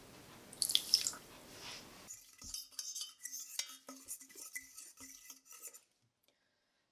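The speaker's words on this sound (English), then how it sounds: "in the bottom of the saucepan, I simply combined our water and our sweetener with a fork just to get it damp" A fork stirs water and granular sweetener in the bottom of a saucepan, a series of soft scraping and tapping strokes with light clinks, close and quiet, ending in silence.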